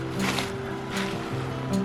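Snowmelt water rushes down Deer Creek at Hildebrand Ranch Park, a soft, continuous broadband wash with gentle swells, heard at a modest distance and fairly quiet.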